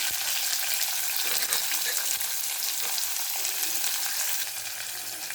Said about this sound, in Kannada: ಚೆನ್ನಾಗಿ ಈರುಳ್ಳಿನ ಫ್ರೈ ಮಾಡ್ಕೋಬೇಕು